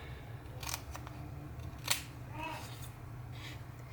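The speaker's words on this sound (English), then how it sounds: "cut your pages" Scissors snipping through tea bag journal pages: a few short, faint cutting clicks and swishes close by, spaced irregularly over a quiet background.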